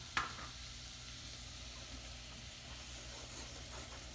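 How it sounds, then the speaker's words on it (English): Flour sizzling in a pan with onions and garlic, a steady quiet hiss with a brief clatter near the start and no talk. "we're cooking our flour just a little bit to remove some of that rawness"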